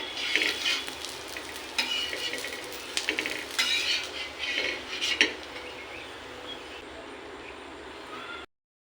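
Pieces of roti snack fry in hot oil, giving a dense, continuous sizzle with scraping stirs and light metallic clinks of a utensil against the pan, close and fairly loud.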